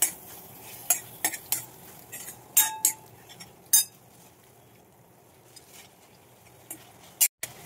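A spoon clinks and scrapes against a pan while grated coconut is stirred into a patoli filling, giving sparse sharp metallic taps over a quiet background, with no talking.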